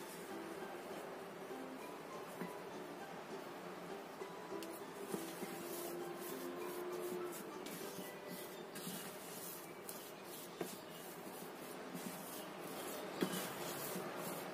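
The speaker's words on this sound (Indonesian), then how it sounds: "Kita aduk lagi sampai semuanya tercampur." Sago vanilla cookie dough is stirred and scraped in a bowl, a soft continuous rubbing with faint irregular ticks of the utensil against the bowl, heard close with no talk.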